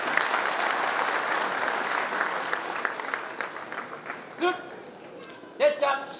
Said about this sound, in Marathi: सर्वांनी टाळ्या वाजवत जोरदार.